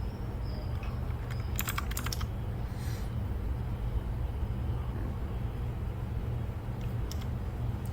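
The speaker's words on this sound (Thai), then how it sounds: "ก็คือการ พิมพ์ sudo apt get update ครับ" Computer keyboard typing a Linux terminal command, with a quick run of close key clicks early on and a few scattered taps later, over a constant loud background hum.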